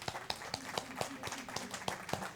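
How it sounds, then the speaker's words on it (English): Participants at a committee meeting on poverty reduction give themselves a round of applause: a faint, sparse run of individual claps spaced fairly evenly, heard from a distance with a low murmur beneath. "give themselves a round of applause for working hard"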